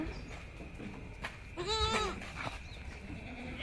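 A young Etawa crossbreed (PE) goat kid gives a single wavering bleat of about half a second, clear over a steady background hum.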